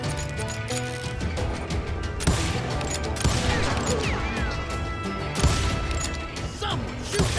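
Gunfire in the Call of Juarez video game: rapid bursts of shots and crashing impacts crackle through a busy mix, with voices talking over the chaotic firefight.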